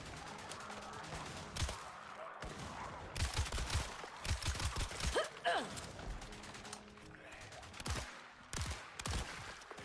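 Submachine gun fire in the zombie co-op shooter Toxic Commando: short, rapid bursts of shots with mechanical clatter between them. The bursts are fairly faint and set in a busy game mix.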